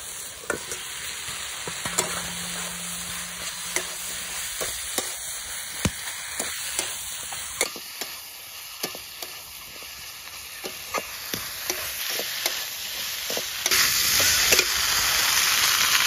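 Young jackfruit pieces frying in spiced oil with turmeric and Kashmiri chili powder, a continuous sizzle with regular spatula scrapes and taps as they are stirred, close and steady.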